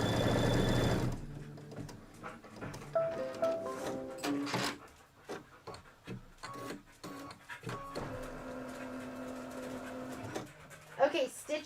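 Embroidery sewing machine stitching a spider placement line, a quick whirring run of needle clatter followed by intermittent stitching bursts and mechanical ticks, with a person talking over it.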